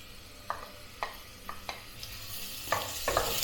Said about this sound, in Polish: I na tym rozgrzanym tłuszczu podsmażamy sobie cebulkę i czosnek.